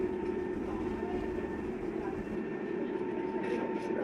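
An Ulsan tram rolls along with a low, steady rumble and faint rail hum, easing off slightly toward the end as it nears a stop, with no talking.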